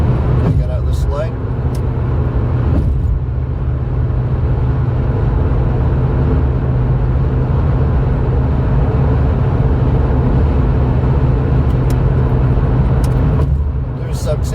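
Steady loud road and engine roar from inside a car cruising on a UK motorway at 70 mph, a continuous low drone with tyre rumble throughout.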